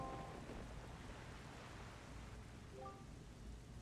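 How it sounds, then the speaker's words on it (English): Steady rain falls over a cursed island in The Legend of Zelda: The Wind Waker, with low thunder rumbling beneath it and a brief tonal game chime near the end. "this place suffers under dark clouds and rain"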